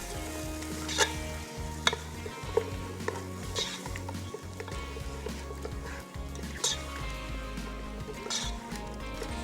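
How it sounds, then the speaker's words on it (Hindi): Beef with yogurt fries in a pan with a steady sizzle while a utensil stirs and scrapes, giving repeated clinks and bumps against the metal, all close and fairly loud. "अब इसमें शामिल करेंगे दही, दही डालने के बाद अच्छी सी होगी इसकी भुनाई।"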